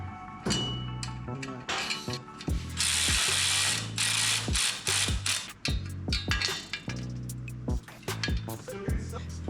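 A ratchet wrench clicks in quick bursts while tightening tire carrier bolts on a 5th gen 4Runner, close and loud, with short pauses between strokes.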